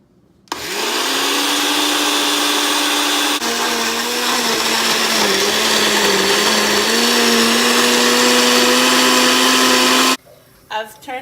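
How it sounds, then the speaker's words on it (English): A blender whirs loud and steady for about ten seconds, purée of onions, tomatoes, bell pepper, habanero and garlic with a splash of water, its motor pitch dipping slightly midway before it cuts off abruptly. "I added just a tiny bit of water so I could get the blender going."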